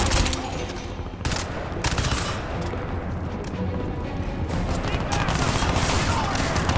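Loud, close gunfire in the video game Crysis 2: rapid, overlapping bursts and single cracks that run almost continuously, with brief dips between volleys and faint talk mixed in.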